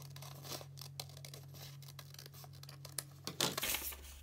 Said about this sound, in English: So I'm just on my last cut now.